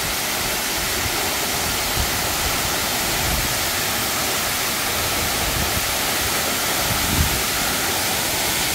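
A steady, roaring rush of falling water fills the whole clip, loud and continuous, from Suok Falls in Goesan, Korea, a 20 m waterfall dropping onto bedrock amid huge rock walls, with no voices.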